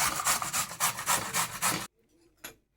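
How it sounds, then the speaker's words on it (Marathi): Half a beetroot rubbed against a hand grater, a fast run of rhythmic rasping strokes, close and loud, then stopping abruptly with one short scrape after a pause. "हा अर्धा बीट मी ते किसून घेते"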